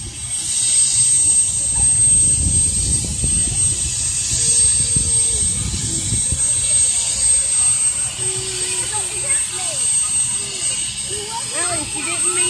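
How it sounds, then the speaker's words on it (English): Black Hawk helicopter turbine engine starting up outdoors, a continuous high whine over a broad rumble that slowly builds, with people talking and chattering nearby throughout. "Jet engine starting up."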